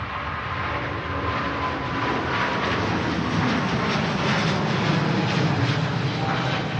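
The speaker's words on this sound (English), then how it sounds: "back to the King of the Skies touching down" A Boeing 747 touches down at Manchester Airport, its jet engines giving a loud, steady broadband roar that builds slightly and holds throughout, with no voices.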